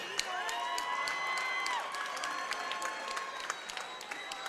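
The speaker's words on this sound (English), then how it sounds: "All right, a round of applause for these two warriors." Crowd at a Chosen Few Fighting Championship cage fight applauding and cheering the two fighters, a steady roar of clapping with scattered whoops and shouts throughout.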